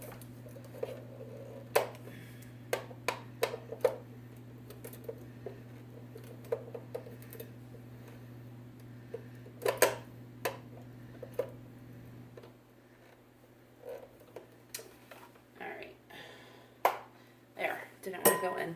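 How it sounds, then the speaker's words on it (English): Metal beaters click and clink into a hand mixer while cream cheese is readied for an Instant Pot cheesecake. Scattered sharp taps and rattles sit over a steady low hum. "Gotta put my beaters on."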